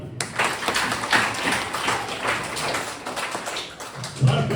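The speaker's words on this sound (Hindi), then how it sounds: "इनके लिए जोरदार तालियां" Audience applause at a retirement celebration honouring long service, a steady patter of many hands clapping at moderate loudness throughout, with a few voices rising near the end.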